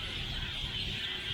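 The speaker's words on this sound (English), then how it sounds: "you might not be able to hear me over these birds" Birds call loudly and continuously along a city street in Southeast Asia, a dense, steady chorus of shrill chirping that fills the scene without pause.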